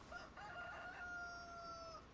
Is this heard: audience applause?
no